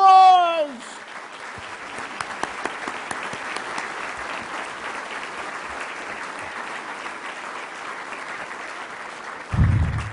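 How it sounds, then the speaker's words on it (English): Sustained audience applause at a city's State of the City address, steady clapping from a large crowd lasting several seconds after a brief spoken introduction, with a short low thump at the end. "Let's give her a round of applause."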